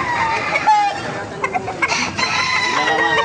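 Chickens, including a Cobra-type rooster, cluck and squawk nearby at a market in Baliuag, Philippines, in short bursts, several birds calling over each other with a bit of background noise.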